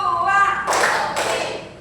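A classroom group claps in a counting clap routine, two sharp, loud claps spaced about half a second apart, with a spoken voice just before them.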